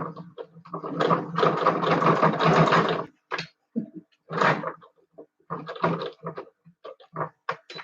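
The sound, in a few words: sewing machine stitching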